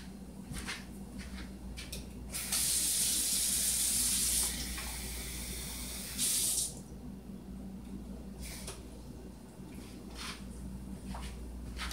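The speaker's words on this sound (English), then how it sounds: "I'm going to add a half a cup of water to each one." Water pours into cobbler dishes, a half cup to each, in a kitchen: two broad hissing pours, a longer one then a short one, with faint handling clatter and no talk.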